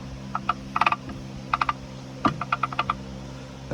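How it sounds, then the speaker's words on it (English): Metallic clicking from a rusty A833 manual transmission being turned over on the bench with its shift forks removed, so the parts are misaligned. Quiet, irregular clusters of light clicks and ticks run throughout, with no voice. "That clicking noise is just things not lined up right because I have the shift forks removed."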